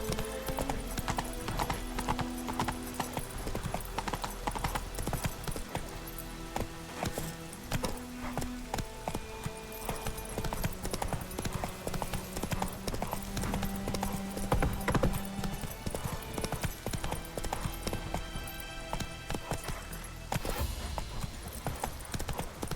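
Horse hooves clip-clop in a steady walking rhythm in The Witcher 3 video game, over soft in-game music.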